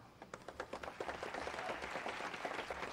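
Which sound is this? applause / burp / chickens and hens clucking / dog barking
applause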